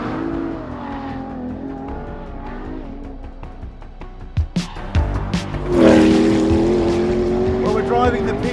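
A McLaren P1 in full track mode on the Portimao circuit: engine drone and upshifts with sharp transient bangs, then a strong surge of acceleration as the car pulls hard, with a voice heard alongside.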